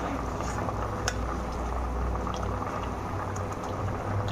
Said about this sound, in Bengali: ঝোলটা ফুটে গেছে আর আলুটা ভালোভাবে সেদ্ধ হয়ে গেছে।